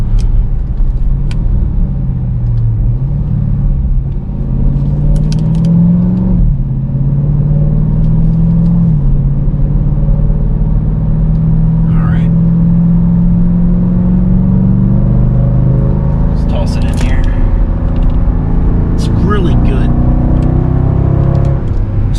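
A 2022 Dodge Durango SRT engine drones steadily and loud while driving through a hairpin, with rising and falling rumble as it accelerates, a faint voice briefly audible.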